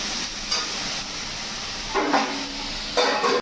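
Parshe fish cooking in a pan, a steady, moderately loud sizzle with a few louder hissing surges as the fish is stirred or turned.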